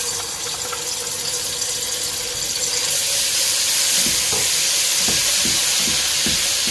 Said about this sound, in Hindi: जैसे हमारा ऑयल गर्म होगा तो हम अपना ये जो लहसुन अदरक है वो इसमें डाल देंगे।